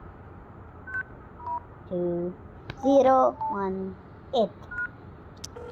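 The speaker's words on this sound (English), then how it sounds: "Let's put this code in our phone and see." A phone keypad dialing a number, a run of short two-tone beeps at an uneven rhythm, clear and close, with brief talking and quiet background noise around them.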